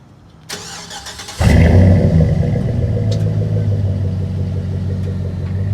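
Lifted 2005 Chevrolet Silverado 1500 Z71 with full exhaust cranking over and firing up, a brief starter whir followed by a loud, deep rumble settling into a steady, throaty idle close by.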